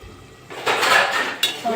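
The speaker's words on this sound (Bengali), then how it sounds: "একটু ঢাকা দিয়ে রাখবো।" Metal lid set down on a cooking pot of prawn, bottle gourd and potato shukto, a brief clatter then a second lighter clink, close and fairly loud, no talk.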